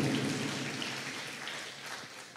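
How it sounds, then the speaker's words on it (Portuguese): A church congregation applauds together in a steady, dense wash of clapping that fades slowly, with no talking over it. "Você pode dar um forte aplauso ao Senhor?"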